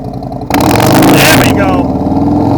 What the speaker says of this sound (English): Rev it like you mean it.